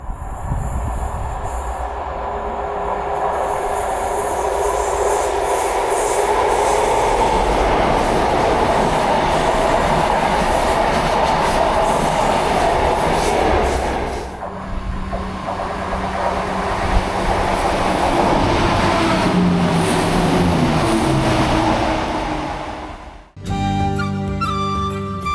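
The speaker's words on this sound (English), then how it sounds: "try and get a glimpse of a couple of trains coming out of that" A train rumbles out of a tunnel near the Forth Bridges, with rising wheel noise and squealing, then fades as a second rattling, clattering train pass follows near the end.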